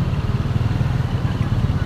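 A motorcycle engine runs steadily close by at the entrance gate of a gemstone market, its low mid-pitched rumble continuous and fairly loud throughout.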